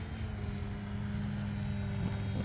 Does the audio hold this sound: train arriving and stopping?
no